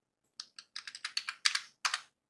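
Keys on a computer keyboard are tapped in a quick uneven burst of about a dozen crisp, close clicks while an Excel VLOOKUP formula is entered, with no talking.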